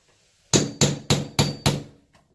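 Five sharp, evenly spaced hammer blows drive nails into wooden door trim, loud and close with short ringing decays and no talk.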